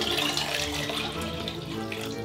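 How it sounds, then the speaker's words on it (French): Tap water runs steadily into a cooking pot of potatoes, filling it to about two litres for boiling; a continuous close splashing rush with no pauses and no voices. "pommes de terre dans le chaudron, l'eau à hauteur 1 litre"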